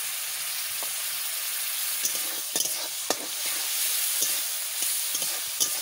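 Ground spice paste fries with onions in a pan, giving a continuous crackling sizzle broken by sharp scraping stirs near at hand, with no talking.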